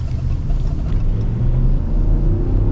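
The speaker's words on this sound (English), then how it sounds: "Power in this engine's good." Dodge 5.7L Hemi V8 engine running, a loud, steady low rumble with a deep throaty drone and slight fluctuations, heard close and alone without talk.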